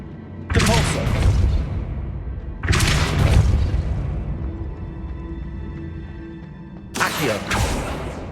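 Spell blasts from Depulso in Hogwarts Legacy: three loud, broadband booming bursts, each with a long rumbling decay, the last cutting in after a pause with no voices.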